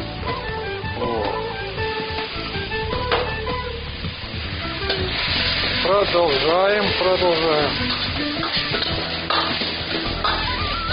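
Paella vegetables being stirred in a pan, Spanish style, with a soft scraping stir and faint sizzle beneath someone speaking and background music.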